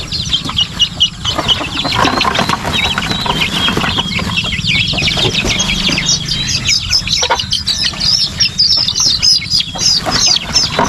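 A flock of young chicks and turkey poults chirps and peeps densely and loudly up close, with bursts of wing flapping and scuffling throughout.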